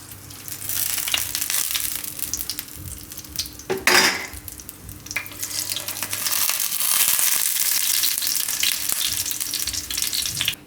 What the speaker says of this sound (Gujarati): તો બધી આપણે આ રીતે તેલમાં શેકી લીધી છે